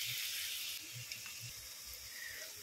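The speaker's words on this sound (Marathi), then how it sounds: "तर चला आता आपण चांगला कांदा परतून घेऊ" Onion frying in mustard oil for a chicken curry, cooked over a wood-fired stove, gives a quiet, steady sizzle and hiss with a few soft low knocks underneath and no voices.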